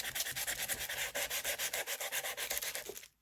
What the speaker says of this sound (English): This I'm going to gesso, so I'm going to sand this as well.